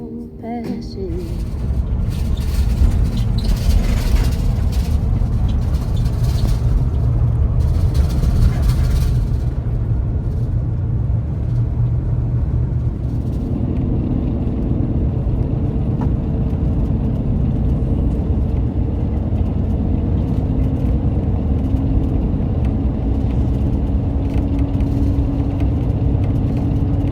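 A van's engine and road noise drone steadily while driving, a dense low rumble with whirring that holds constant throughout; the cabin sound shifts slightly partway, with no one talking.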